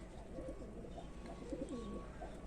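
Pigeons on a rooftop coo in soft, repeated low-pitched calls, close by and continuous over a faint steady background hum, with no one talking.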